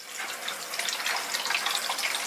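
Water spilling over the overflow of a 500-litre aquarium, a steady close trickling and splashing rush with faint dripping, heard alone without voices.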